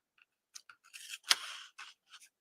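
Quiet, close snips and rustles of scissors cutting material for a journal, a few short crisp cuts with one sharper snip in the middle, no talk.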